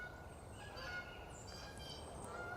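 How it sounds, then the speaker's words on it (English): Geese honking outdoors, repeated nasal calls overlapping from a moderate distance over a steady broad background rumble, with no talk. "I really hope you can hear these geese."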